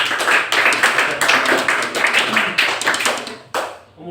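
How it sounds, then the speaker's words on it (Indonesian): A classroom of students applauding a group: a burst of many hands clapping fast and close, which swells, dips briefly and picks up again before dying away at the end. "Aplaus untuk kelompok 3."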